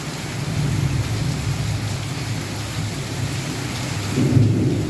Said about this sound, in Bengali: বৃষ্টির যে সাউন্ডগুলো শোনা যাচ্ছে, কীরকমভাবে বৃষ্টি হচ্ছে,